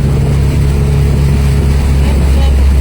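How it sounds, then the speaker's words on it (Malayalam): A Yamaha outboard motor drives a speeding boat with a loud, steady, close engine drone, and waves splash continuously against the hull throughout. "യമഹയുടെ മോട്ടറിന്റെ ശബ്ദവും പിന്നെ വെള്ളം സ്പീഡിൽ പോകുന്ന കാരണം തിരയടിക്കുന്ന ശബ്ദം"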